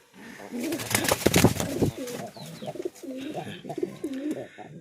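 Lotan pigeons, a fancy show breed kept as a pair, coo in repeated rolling phrases close up, with a burst of wing flapping and rustling early on.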